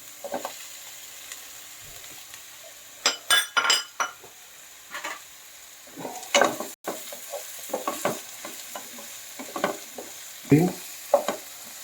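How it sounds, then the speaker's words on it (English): Zucchini tossed into hot oil in a frying pan for a Goan-style pan-fried chicken noodle dish, giving a soft sizzle under repeated scraping and clinking stirring strokes that come in irregular close bursts. "And now we throw in the zucchini."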